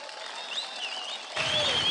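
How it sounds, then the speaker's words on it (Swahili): A crowd applauding a government minister at an outdoor public gathering in Kuria West, a soft wash of clapping that swells louder near the end. "Na situmpigie makofi."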